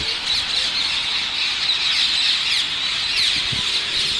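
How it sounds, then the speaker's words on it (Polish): Loud, shrill parakeet squawks over a constant high hiss of birdsong, several screeches cutting through. "zamiast niego będziemy słyszeć na przykład głośny krzyk papug"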